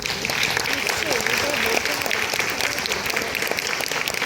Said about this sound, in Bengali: একটু করতালি আশা করছি।